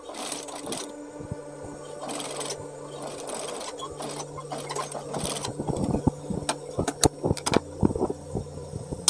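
A sewing machine stitches a tiny buttonhole loop for a 1 cm cuff, a near mechanical whir that starts and stops in short bursts, growing busier with sharp clicks toward the end.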